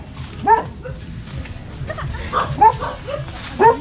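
A dog gives several short, sharp barks and yips at intervals, fairly close, with some voices in the background.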